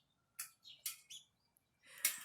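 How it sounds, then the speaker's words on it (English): Several quick bird chirps and tweets come in short bursts, fairly faint with quiet gaps between them. "There's lots of birds in my trees."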